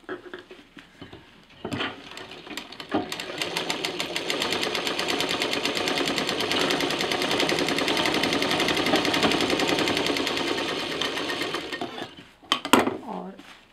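Sewing machine stitching fabric for a festive sling bag, running in a steady rapid whir for about ten seconds, with brief handling clicks before and after, close and fairly loud.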